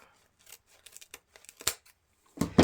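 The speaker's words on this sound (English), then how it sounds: "take your scissors, find the center point, and just cut that right in half" Scissors snip through a stack of ribbon in a series of short, crisp cuts, quiet at first, then a louder final snip close by.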